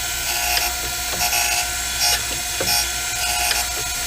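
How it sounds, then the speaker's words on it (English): Metal tool parts clamped in place are ground down with a continuous rough, buzzing abrasive drone and small scraping surges, steady and close, with no talking. "Just another shot of grinding."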